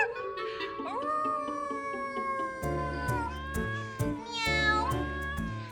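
A person imitates a cat, meowing in a drawn-out, wavering voice with several rising and falling cries over a musical background, loud and close.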